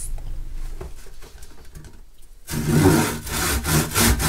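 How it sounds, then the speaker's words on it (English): A handsaw cuts into a wooden log, giving bursts of rasping, gritty strokes that grow louder and denser in the second half after a brief near-silent pause. "I'll use a handsaw and a hammer and chisel just to knock these pieces out"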